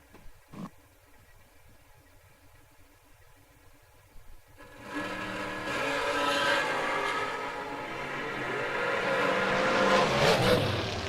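A carburetor dragster at a drag racing event, starting as a quiet roar and swelling at about five seconds into a loud, sustained engine blast that builds toward the end, with no talk.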